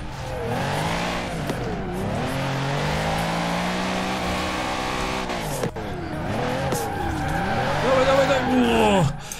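A Mercedes G65 AMG drifting in the video game Forza Horizon 4: a loud engine revs up and down, dips sharply as gears shift, and has a squealing tire edge during slides.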